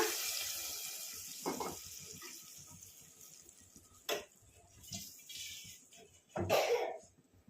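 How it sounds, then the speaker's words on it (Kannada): Water added to a palak and toor dal sambar in a pot, a quiet rushing pour at first, then intermittent splashes and gurgles, fairly close with no speech. "ಸ್ವಲ್ಪ ನೀರು ಕೂಡ ಆ್ಯಡ್ ಮಾಡ್ಕೊಂಡು ಹಾಕ್ಕೊಳ್ತಾ ಇದ್ದೀನಿ"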